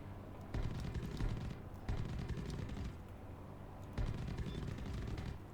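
Rapid bursts of gunfire from a base in the War Thunder flight game crackle in several clusters about a second long, heard at a moderate distance with a dense rattling texture and brief gaps between salvos.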